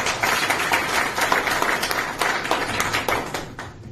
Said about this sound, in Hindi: बहुत जबरदस्त जोरदार ताली एक बार